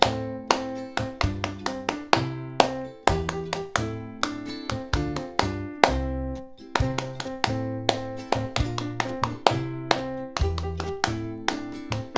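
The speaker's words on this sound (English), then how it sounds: "Ready to clap." Children clapping along to a school primary prom song, sharp rhythmic claps in a steady beat over a pitched musical accompaniment, close and clear throughout.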